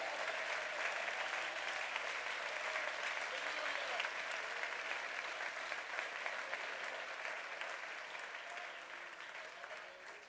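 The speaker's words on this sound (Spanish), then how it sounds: "Si hay alguien que le quiere dar un aplauso," Church congregation applauding during a Spanish-language sermon, a faint but sustained wash of many hands clapping, steady for several seconds and slowly fading toward the end.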